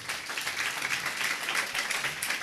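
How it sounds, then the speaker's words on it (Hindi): A church congregation gives itself a round of applause during a service, soft and fairly distant clapping that stays even for a couple of seconds. "अपने लिए जोरदार तालियां एक मरतबा बजाएं"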